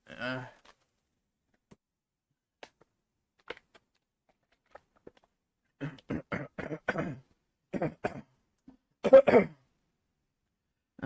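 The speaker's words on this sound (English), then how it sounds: "sorry, coughing there." A brief, close cough or throat clearing in a quiet room, followed by scattered small noises and then a person talking.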